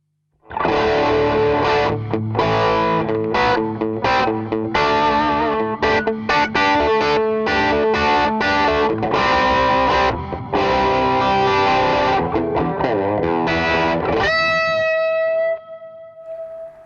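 Overdriven electric guitar through the drive channel of a Mooer Preamp Live with a noise gate on plays a dense, crunchy passage for several seconds, then ends on a ringing chord that decays into quiet.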